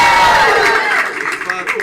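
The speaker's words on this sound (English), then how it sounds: "applaud now, please" A studio audience at a game show applauds to award points to Larry, a dense, close wash of clapping that fills the short moment and thins slightly toward the end.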